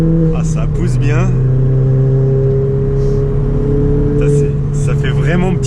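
A Ford Fiesta ST Mk7 Stage 2 hatchback engine with a decat exhaust revs hard with a raspy, throaty, rally-car-like exhaust note, steady and loud throughout, with brief voices and road noise mixed in.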